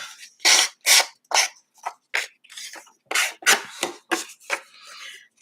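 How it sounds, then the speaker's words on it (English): A little sanding box rubs off rough, furry edges on an album piece in quick, irregular rasping strokes, close and dry, about a dozen short scrapes with brief pauses between them. "I'm just going to take off where I have a heap of rough edge on there."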